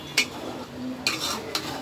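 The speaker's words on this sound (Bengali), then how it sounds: "এখন ভালো করে নাড়বো।" Whole spices like cardamom, cinnamon, bay leaf and clove being stirred in a pot of chicken curry, with a few sharp spoon scrapes and clinks against the metal over a low steady background.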